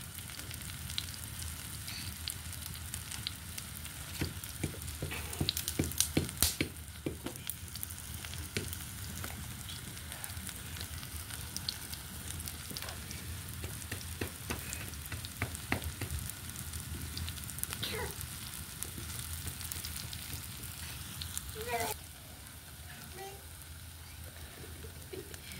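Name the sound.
cabbage fritters frying on a clay stove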